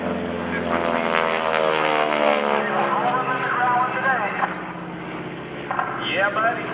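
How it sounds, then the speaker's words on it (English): A propeller airplane flown by a pilot climbs through a barnstormer loop at the 2012 NAS Oceana airshow, its engine droning loud and continuous with shifting pitch, while an announcer talks over it. "Barnstormer loop coming up next. Get the airspeed up."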